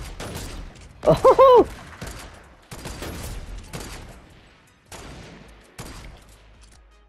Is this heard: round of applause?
no